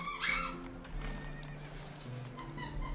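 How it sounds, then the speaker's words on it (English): A dog's squeaky toy gives a short burst of shrill squeaks near the start, then fainter squeaking over a steady background hum. "My dog's got a squeaky toy."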